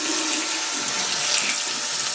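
Tap water running steadily into a bathroom sink as a bar of soap is washed, a loud continuous splashing rush with no voices.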